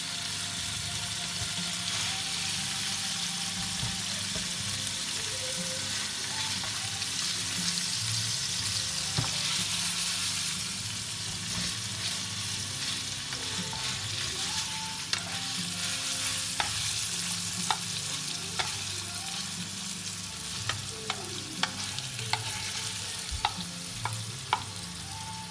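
Salmon with truffle flash-cooks in a hot pan, giving a steady, close sizzle with scattered sharp crackles and pops over 25 seconds. Faint clinks and occasional water-like noise run beneath it, and no one speaks.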